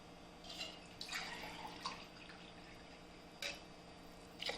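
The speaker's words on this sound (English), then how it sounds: "I am adding 3 glasses of water." Water poured from a glass onto measured rice in a pot while making mint rice, soft splashing and dripping in short bursts, quiet and close.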